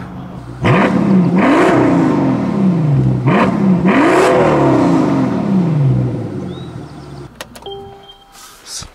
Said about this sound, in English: while the car sounds really good, it's a V12